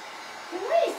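A hair dryer blows on fresh paint on a wall hanger, a soft airy whoosh that swells louder and rises in pitch near the end of the brief burst.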